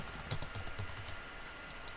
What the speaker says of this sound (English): I'm typing down the list of this stuff